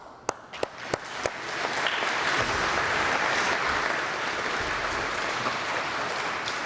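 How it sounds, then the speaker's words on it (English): A few sharp individual claps open, then an audience breaks into sustained applause inside Amasa Stone Chapel at an anesthesia master's diploma ceremony, steady and moderately distant. "I'll encourage you to keep clapping whenever you want"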